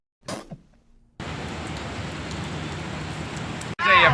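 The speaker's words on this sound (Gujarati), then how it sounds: "વરસાદ ચાલુ થઈ ગયો." Rain begins to fall outdoors. After a few faint knocks, a steady, even hiss of rain sets in and holds, briefly cuts off, then returns louder.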